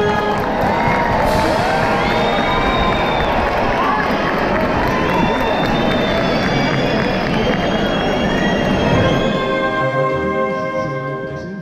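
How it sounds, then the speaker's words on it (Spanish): A street crowd at the Fallas lights inauguration on Calle Cuba–Literato Azorín cheers and applauds loudly, with whoops, shouting and a dense roar of clapping that carries on for over ten seconds before easing. "Un fortísimo aplauso, por favor."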